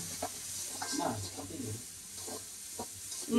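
Noodles being stirred and fried with green chilies in a pan, soft scraping and light sizzling at low level, with faint voices in the background.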